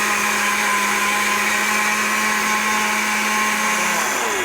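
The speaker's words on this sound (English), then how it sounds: "I'm just going to turn this on and we let it blend." A blender whirs loudly and continuously as it purees soaked sesame seeds into sesame milk, a close, steady motor roar with a faint pitch shift near the end.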